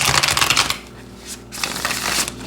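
Light Seers Tarot cards shuffled by hand close up, two bursts of riffling and flapping card noise separated by a short lull, with no talking.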